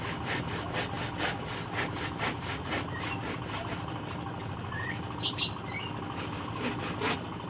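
A handsaw cutting wood to build a birdhouse, with regular back-and-forth rasping strokes, close and steady, and small birds chirping faintly in the background.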